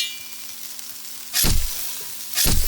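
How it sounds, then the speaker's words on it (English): Tasso sears in a pot alongside browning pork for a Cajun corn soup, a steady close sizzle that swells into two loud hissing bursts as the meat is stirred. "we're just gonna sear up the tasso for another 5"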